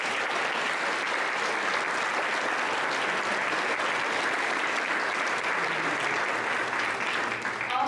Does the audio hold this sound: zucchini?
no